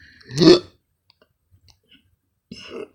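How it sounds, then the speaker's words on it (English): A man burps loudly, then gives a shorter throaty hiccup-like sound a couple of seconds later, both close and alone in a quiet room. "what is up with me burping and hiccuping and all kinds of stuff?"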